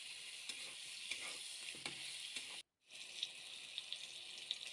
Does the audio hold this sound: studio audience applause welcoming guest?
no